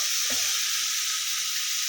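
Fish curry ingredients frying in a pressure cooker, a steady bright sizzle with a brief stir or scrape near the start, close and continuous throughout.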